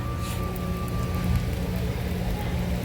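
Raindrops patter steadily as a soft, even hiss during an outdoor family devotional offering, with a faint tonal hum running beneath and no clear thunder.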